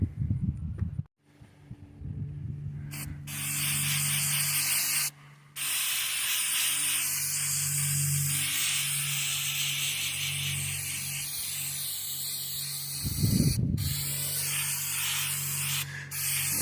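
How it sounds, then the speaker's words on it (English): Paint stripper hisses from a spray can onto a 2003 Yamaha Raptor 660 in long, steady bursts, with a few short pauses and clunks between sprays. "So I'm going to go ahead and go spray this stuff, and we'll let it sit."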